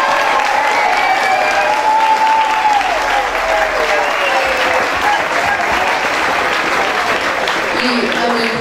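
At an album launch, the crowd applauds with steady, loud clapping and some cheering, while a voice speaks over it throughout.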